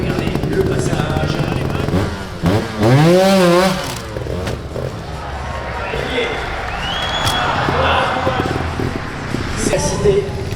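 A trial motorcycle at an indoor international trial competition in Narbonne revs in short bursts amid scraping and clattering over obstacles, with crowd noise and an announcer talking over it.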